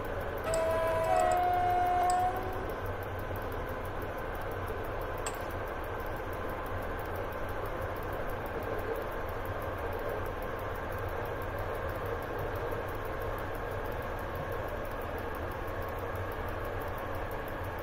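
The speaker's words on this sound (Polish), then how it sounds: "pociągi pod górę też jeżdżą" An EP07 electric locomotive hauling ten wagons climbs uphill in the MaSzyna train simulator, giving a steady, continuous rumbling drone with a brief tonal whine near the start.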